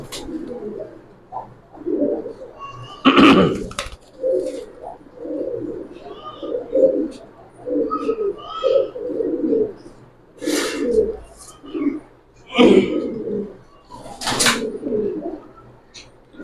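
Sapchila pigeons of an old breed cooing in soft repeated throaty bursts, near and fairly loud, with a few sharper wing flutters or rustles breaking in between the coos.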